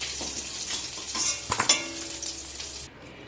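Spices crackle and sizzle as they hit hot oil in a wok, with a brief burst of louder spitting midway and a steady frying hiss throughout, close and alone with no voices.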